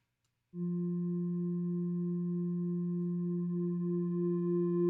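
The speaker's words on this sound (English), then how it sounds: "Let's do a low sine wave, 2 triangles that are slightly detuned." A synthesizer holds a steady low sine wave layered with two slightly detuned triangle oscillators, entering abruptly after a short silence and sustaining as a smooth, constant tone.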